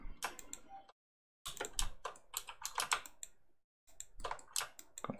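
Control and Shift keys tapped on a computer keyboard, bursts of close clicky keystrokes separated by two brief silent pauses, with no talking.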